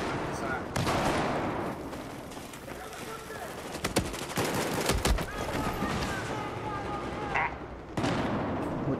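Gunfire in Battlefield 4: rapid bursts of automatic fire and sharp gunshots crackle throughout, mixed with muffled blasts and clatter, while players talk over the action.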